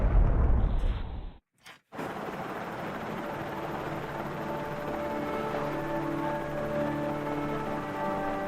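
An explosion in the Resident Evil Remake video game opens with a loud blast and low rumble, cuts out briefly, then returns as a sustained, roaring rumble with a faint tonal hum underneath.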